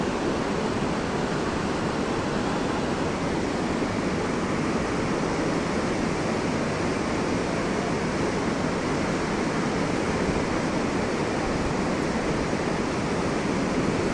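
The Parvati river rushes through a mountain valley near Manikaran with a loud, constant, dense roar of churning water that holds steady throughout.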